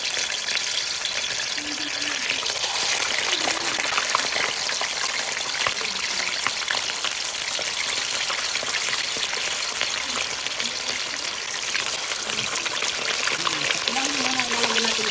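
Galunggong fish sizzles and crackles in hot oil in a pan, a continuous close frying hiss with occasional pops and faint stirring sounds.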